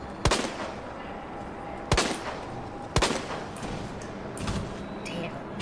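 Gunshots in the video game Resident Evil 2, playing as Claire: three sharp, loud shots spaced about a second apart, followed by softer game noises, with no talk over them.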